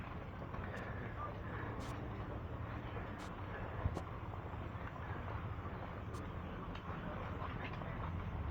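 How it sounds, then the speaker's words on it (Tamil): A train crosses the Nine Arch Bridge in Ella, giving a steady, broad rumble that fills the whole stretch, with a few sharp clicks and voices faintly underneath. "வந்த டைமு கரெக்டாக ட்ரெயின் வருது."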